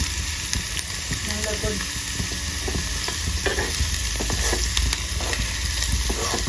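An omelette frying in a pan with a little salt until browned, with a loud, close crackling sizzle and occasional scraping, and faint talk now and then.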